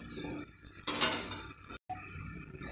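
Gulab jamun fry in oil over a low flame with a soft, continuous bubbling sizzle, broken by a louder surge of crackle and a short sharp cut-off near the end.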